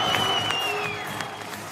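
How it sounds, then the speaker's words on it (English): Brief, soft golf clap on a sports talk show, a light patter of a few hands that fades quickly at low volume. "Golf clap."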